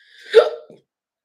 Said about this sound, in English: That was a hiccup and a burp.